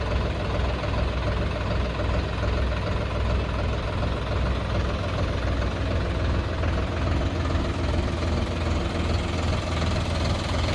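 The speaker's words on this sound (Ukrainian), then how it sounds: "Двигун на даному тракторі у нас від заводу Mitsubishi." A Solis RX-50 tractor's three-cylinder Mitsubishi engine idles steadily up close, a continuous low knocking rumble with even vibration and no change in pace.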